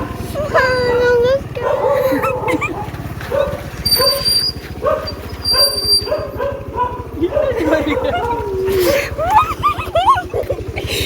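A dog barks and yips repeatedly nearby, with whimpering notes, while people talk over a steady low rumble.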